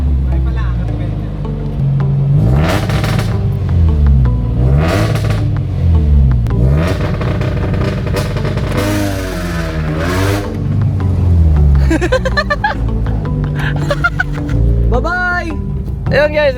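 A car with an aftermarket launch control and rev limiter revs hard and loud, its engine tone sweeping up and down repeatedly, then bouncing off the limiter with rapid stuttering pops, while people talk excitedly over it.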